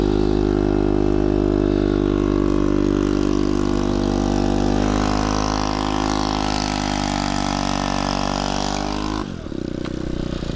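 A scooter engine idles steadily and loudly at low revs, a constant throbbing drone nearby, shifting slightly in pitch before dropping near the end.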